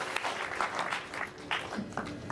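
A church congregation claps together during a New Year service, steady rhythmic applause from many hands at moderate distance, alone without talk.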